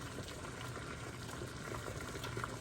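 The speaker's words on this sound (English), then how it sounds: "This is boiling pretty good now." Quiet, steady bubbling and gentle popping of melted old candle wax at a boil, continuous and close.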